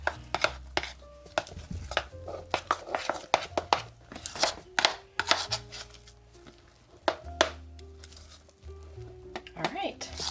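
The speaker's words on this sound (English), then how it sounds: "And I'm just going to give that a bit of a stir." A spoon stirs shredded Fiesta-blend cheese of Monterey Jack, cheddar and queso into keto taco dough in a bowl, giving repeated close clatters and scrapes with uneven rhythm while a person talks throughout.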